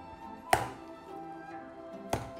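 Stuffing paste is slapped down into a bowl to firm it, giving two sharp, close thuds spaced well apart against a quiet kitchen background.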